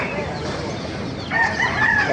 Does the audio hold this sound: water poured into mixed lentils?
no